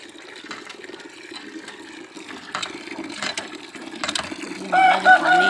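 Chicken heard nearby in a rural yard, soft clucks over background noise with a brief louder call near the end; no talking.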